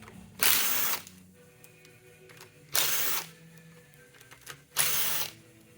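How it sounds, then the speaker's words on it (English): A ratchet winds off bolts on a Tecate 4 T4 engine during a rebuild, in three separate bursts of rapid clicking, each about a second long, with quiet pauses between them. "So take your 3 bolts out first."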